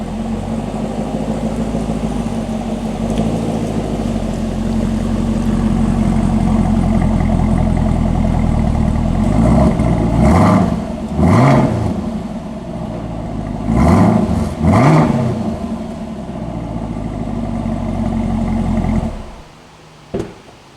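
A 2023 Chevrolet Camaro ZL1 idles with a deep, steady rumble, then gets two sharp revs that rise and fall, with a short blip near the end.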